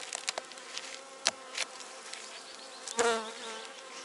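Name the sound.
honeybees buzzing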